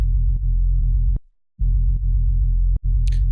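A deep, sustained synthesized sub bass drones loudly, cutting out briefly twice before resuming, with a faint high click near the end.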